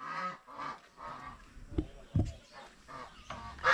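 Farm turkeys calling in a series of short honking gobbles, several separate calls spread across a few seconds at moderate distance, quiet background with no speech.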